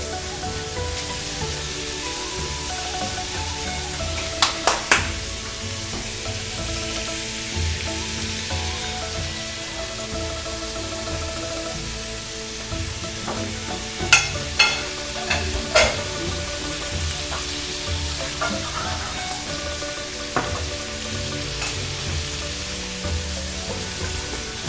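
Cilantro, ginger and garlic sizzle steadily in a hot pan, with a few sharp clinks and scrapes from stirring rising above the constant frying hiss.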